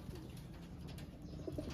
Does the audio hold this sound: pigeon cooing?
yes